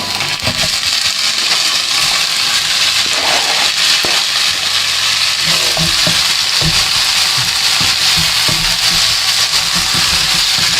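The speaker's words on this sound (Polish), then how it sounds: "Jak już cebula się smaży na taki delikatnie złocisty kolor, dodajemy ogórki." Onion sizzles and fries steadily in a hot pan until golden, a loud continuous crackle with occasional stirring clatters throughout.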